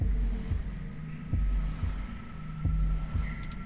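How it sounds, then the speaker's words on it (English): A slow, steady heartbeat thumps in the 2064: Read Only Memories video game, a series of low pulses over a constant electronic hum, with no talking. "your heartbeat is like sonar to me"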